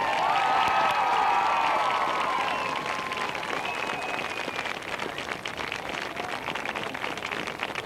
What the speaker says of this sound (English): One more round of applause for the North Penn Marching Knights.